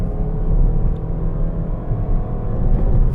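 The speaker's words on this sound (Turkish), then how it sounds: "Yüze bile çıkacağımızı zannetmiyorum ama bastım gaza" A 2021 Suzuki Swift Hybrid pulls away under full throttle, its engine giving a steady, loud low rumble with a whirring drone that holds constant throughout, heard from inside the car with no talking.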